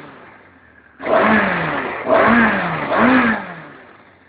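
A Suzuki Gixxer 750cc motorcycle idles close by, then its engine revs three times in quick succession, each rev rising sharply and falling back toward idle.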